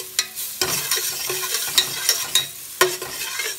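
Garlic sizzles in melted butter in a pan as carbonara sauce is started, a steady frying hiss broken by several sharp spoon scrapes and clinks while it is stirred, with no talking.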